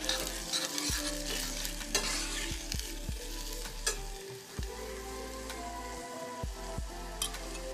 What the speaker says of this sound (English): First, I will add a cup of chopped onion and saute it for about three minutes.